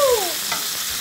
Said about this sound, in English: we throw in our prawns